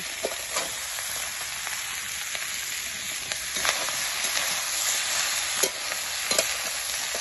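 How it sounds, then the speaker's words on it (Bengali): Mixed vegetables and cut stalks frying in a pan, a continuous close sizzle broken by scattered scraping clicks from a stirring utensil. "এগুলোকেও আবার একটু নাড়াচাড়া করে নিতে হবে"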